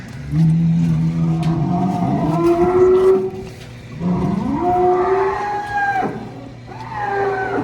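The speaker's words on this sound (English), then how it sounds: "Got some curious cows." Several cows moo loudly and close by, long drawn-out calls rising and falling one after another, with a low engine-like hum underneath.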